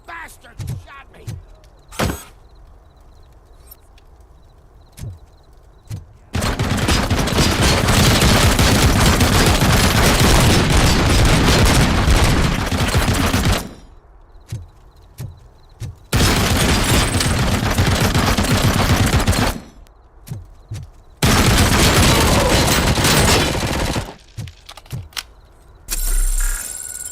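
Gunfire in RoboCop: Rogue City comes as long sustained automatic bursts, loud and close, separated by quieter gaps with scattered single shots and clanks.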